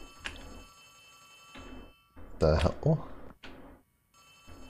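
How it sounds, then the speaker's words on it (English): A telephone rings in short, bright bursts inside the Poppy Playtime video game. It repeats several times at moderate volume, and a voice talks over and between the rings. "Whose phone is ringing?"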